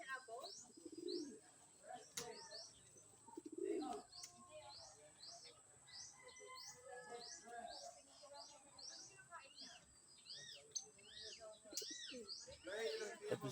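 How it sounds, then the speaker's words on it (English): Pigeons or doves cooing outdoors in a natural setting, with repeated soft coos and bird chirps at moderate distance, along with faint background voices. "Tapos dove or pigeon, I don't know."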